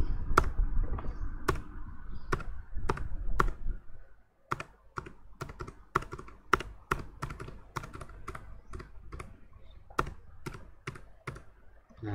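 Computer keyboard typing while working in Primavera P6 software, sharp separate key clicks in quick uneven runs, close and fairly quiet over faint background noise.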